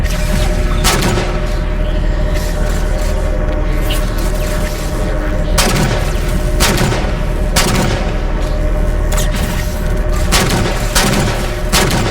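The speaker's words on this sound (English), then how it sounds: "Taking fire, starboard side!" Sustained gunfire and booming blasts in the Halo 4 video game, dense and loud throughout with repeated sharp shots and heavy impacts over a constant rumbling battle backdrop, no talking.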